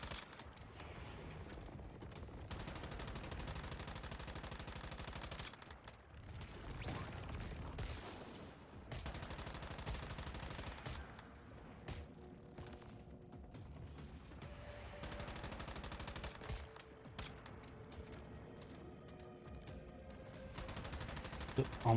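Gunfire in the video game Once Human, sustained rapid bursts of shots filling most of the stretch with brief pauses between volleys, mixed with faint game sounds.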